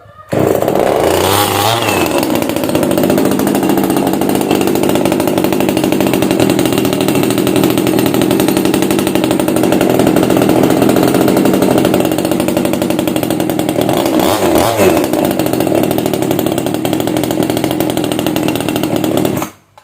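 A JonCutter 2500 top-handle chainsaw starts up and runs, a loud close two-stroke buzz held steady for most of the time with a couple of throttle swells before it shuts off.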